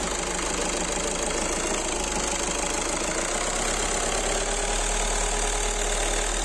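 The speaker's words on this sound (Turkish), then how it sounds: "Motoru biraz çalıştırıp yağını kontrol edeceğiz." A diesel car engine with 90,000 km on it runs steadily at idle, a loud, close, continuous clattering rumble with no talking over it.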